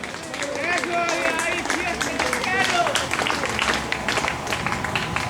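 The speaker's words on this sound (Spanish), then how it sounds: "Dan un aplauso a Jesucristo por eso" A church congregation applauds for Jesus Christ, with steady crowd clapping that carries on for several seconds and voices talking and calling out through it.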